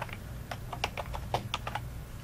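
Fingers type on a computer keyboard, a quick run of about a dozen light clicking keystrokes at close range in a quiet room.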